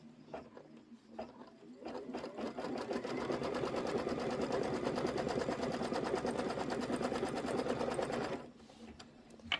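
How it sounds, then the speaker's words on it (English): An embroidery sewing machine runs a fast, steady stitching pattern to quilt a table topper, buzzing continuously at close range for several seconds before stopping, with a few light clicks around it. "I'm just going to go ahead and hit start, and it's going to do all the quilting"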